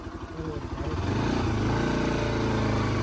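A motorcycle engine rumbles close by and builds to a loud, steady drone as it rides in heavy rain, with broad hiss over the top.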